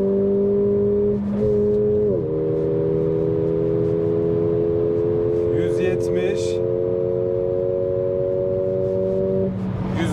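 A Mercedes CLA 45 AMG's 2.0 turbo engine drones at steady high revs with the exhaust valve open, a loud constant hum with a brief dip in pitch early on, and faint voices underneath.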